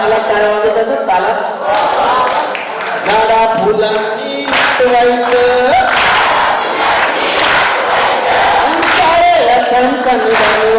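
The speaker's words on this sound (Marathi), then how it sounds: "ताला टाळ्या वाजत आहेत ताला." Crowd of students and guests at a school annual prize distribution ceremony clapping loudly and rhythmically in time, mixed with chanting voices and a person speaking over the din throughout.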